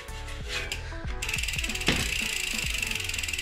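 Rapid mechanical ratchet clicking from a bicycle hub, a steady buzzing tick that speeds up and continues without pause, close and fairly loud.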